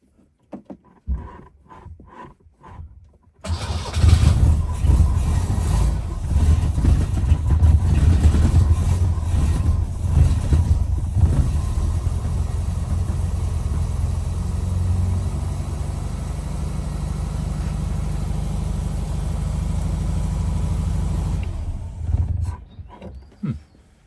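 A 1970 Lancia Flavia Milleotto Berlina with a Solex PAIA 32 carburettor on choke cranks and catches, then idles roughly and loudly for about eighteen seconds before cutting out and going quiet.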